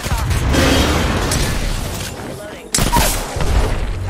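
Apex Legends gunfire rattles in rapid, loud bursts with booming impacts. There is a brief pause before another sharp volley, close, under and between a player's talk.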